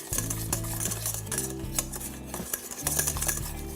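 A spoon stirs cocoa powder and a splash of milk into a thick paste, making quick, repeated scraping and clinking strokes against the cup or bowl, close and busy, with no talking.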